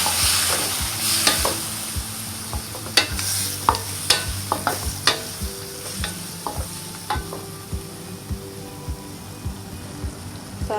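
Fried chicken tossed with sauce in a hot pan for Kung Pao chicken: a loud, bubbling sizzle with repeated clacks and scrapes of a spatula stirring close by.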